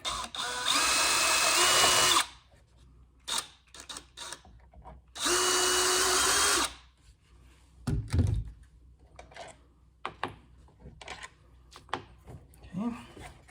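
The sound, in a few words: power drill removing screws from remote control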